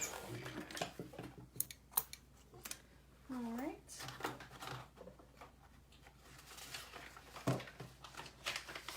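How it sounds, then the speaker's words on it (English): Scissors snip through vinyl seam allowances on an all-vinyl tote bag, a series of short, close cuts and crisp clicks mixed with handling noise, with some speech-like sounds in between. "I'm going to trim my seam allowances."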